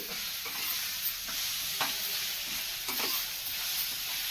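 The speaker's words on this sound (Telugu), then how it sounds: "ఇది బాగా మిక్స్ చేసేసి" A spoon stirs coconut paste into beetroot curry in a hot pan, soft scraping strokes every second or so over a steady low sizzle, close and without talk.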